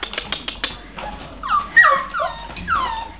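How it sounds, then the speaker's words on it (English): Puppies whimper close by in a string of high, wavering whines and soft yips that rise and fall irregularly, with short tapping noises at the start. "What's the matter with the puppies?"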